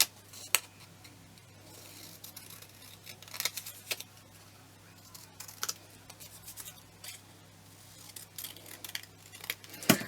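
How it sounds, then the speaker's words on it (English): Scissors snip through paper card edging on a handmade junk-journal card made from scraps, giving scattered crisp cuts and small rustles, close and fairly quiet, with no talking. "so I'm going to cut that edging down."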